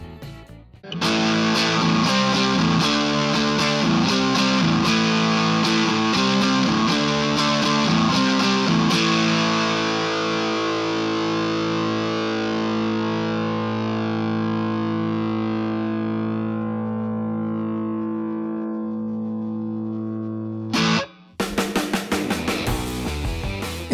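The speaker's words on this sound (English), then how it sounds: "if I raise the distortion up, the difference will be obvious" An electric guitar played through an overdrive distortion pedal: loud, gritty distorted chords strummed rhythmically for several seconds, then one long sustained chord ringing out and slowly decaying, followed by a brief return of chopped strumming.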